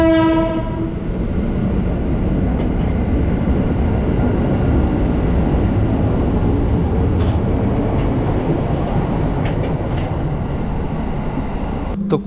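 Onboard an Indonesian Railways (Kereta Api Indonesia) executive coach running on metre-gauge track, a steady loud rumble of the moving train with rail clatter throughout, and a horn sounding in the opening second.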